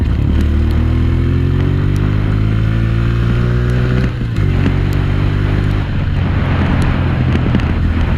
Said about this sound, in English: Here, this is what the bike sounds like.